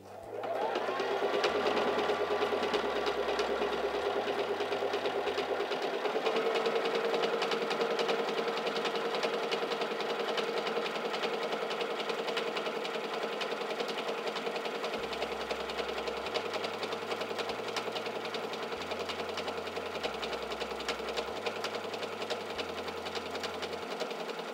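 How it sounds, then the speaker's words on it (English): A SINGER Simple 3337 sewing machine runs steadily while stitching a honeycomb stitch, giving a continuous close mechanical whir with a rhythmic chatter that shifts pattern partway through and carries on to the end, with no speech. "And now we can stitch out a honeycomb stitch."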